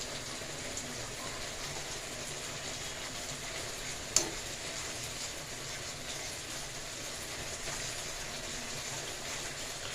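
Juice squeezed from oranges simmers in a kadai while being stirred for orange jelly, giving a soft, steady sizzle with faint stirring scrapes and one sharp clink partway through. No one speaks.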